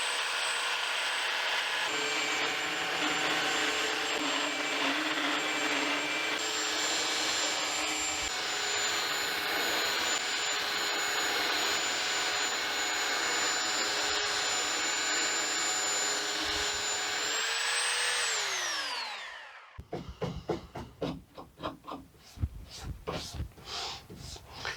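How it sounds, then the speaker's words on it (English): Belt sander with 120-grit paper running steadily on a wooden boat, a continuous loud whine that holds for about eighteen seconds, then winds down and stops, leaving scattered handling knocks. "It's going to be quite a bit of sanding though, I think."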